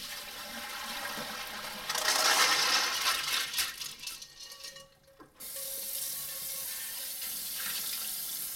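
Beans being rinsed under a running kitchen tap in a home kitchen while making pasta e fagioli: steady rushing water with a louder splashing burst, a brief pause, then the flow resumes evenly, close and with no talking.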